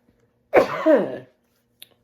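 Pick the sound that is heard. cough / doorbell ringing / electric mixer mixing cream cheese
cough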